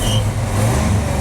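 An International Scout II idles quietly, a steady low engine hum with a soft mechanical rumble running evenly throughout, close by and without talk.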